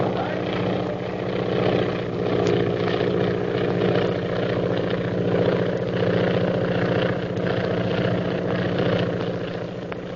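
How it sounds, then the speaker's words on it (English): A propeller airplane drones steadily overhead, a continuous low engine hum holding at an even, fairly close level throughout. "There's a plane following us."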